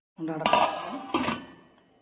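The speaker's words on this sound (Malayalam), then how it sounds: "ഫ്ലെയിം കത്തിച്ച് നമുക്ക് ഇത് അടച്ച് വെച്ച് വേവിച്ചു" A metal lid clanks twice onto a pot on the stove, where elephant foot yam is cooking for an Onam kootu curry. Both bright, close knocks ring briefly and fade, with no talk.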